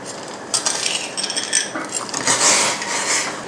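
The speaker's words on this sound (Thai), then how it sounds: "เราก็จะใส่น้ำตาลกรวดลงไปค่ะ คนให้ละลายเลยนะคะ" Rock sugar is stirred into a pot of boiling water, a spoon clinking and scraping against the pot in quick close strokes over a bubbling hiss.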